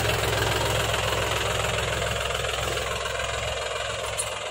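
A Mahindra 265 DI tractor engine labours under a heavily loaded trolley going downhill, a loud, continuous knocking diesel rumble with steady vibration heard close for several seconds.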